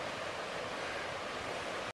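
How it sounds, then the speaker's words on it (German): Steady broadband rushing of stream water in the Wiesent valley of Franconian Switzerland, a continuous close wash of noise with no voices, cutting off abruptly at the very end. "Da rauscht das Wasser so schön."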